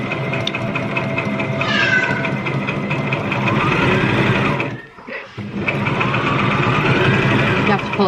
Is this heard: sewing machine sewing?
yes